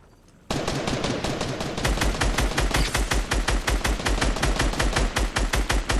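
Loud, rapid automatic gunfire in Fortnite, starting abruptly after a brief quiet moment and then continuing as a dense, steady stream of shots.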